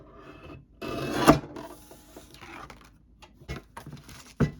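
Paper envelope section being trimmed, a few rasping cuts and rubbing strokes close by with short pauses between them, no talking.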